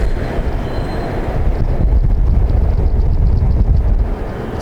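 A Bangkok BTS SkyTrain passes close by, a loud steady low rumble of rail cars with wind buffeting the microphone, building slightly in the second half and carrying through to the end.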